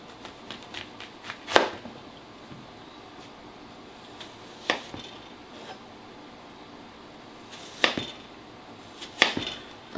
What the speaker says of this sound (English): And we will cut down an onion